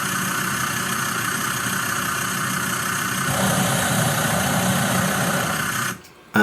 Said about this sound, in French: il y avait une Jeep avec le moteur allumé. Et ce moteur, on l'entend.